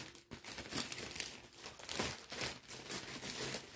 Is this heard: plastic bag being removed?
yes